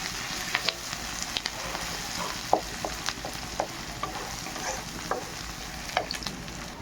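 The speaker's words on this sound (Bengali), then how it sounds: "হালকা ভেজে নেব।" Onions frying in a pan for a fish dish, a steady close sizzle with scattered light clicks and pops of stirring throughout, no one talking.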